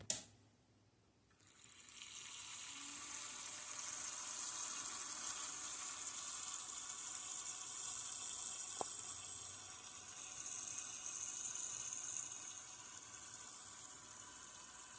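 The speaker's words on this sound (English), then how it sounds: "Turn it on, let it pull a little bit of fluid, see if we get it coming out here without it coming out anywhere else." A small water pump runs steadily as it draws coolant through a water-cooling loop fitted to an Xbox 360, a continuous trickling, fizzy hiss following a brief click and moment of quiet, fairly faint and close.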